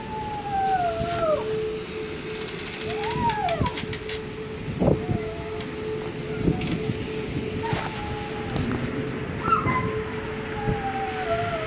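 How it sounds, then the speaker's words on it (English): A pet dog howling during a tornado warning, several rising and falling wails at moderate distance over a steady background hum and scattered clatter. "That is my dog howling."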